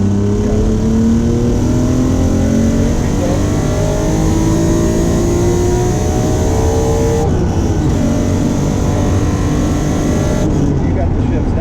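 A modified Acura NSX accelerates hard through its gears, with a loud, close engine note rising in pitch and dropping at each of two shifts. People talk over the steady roar.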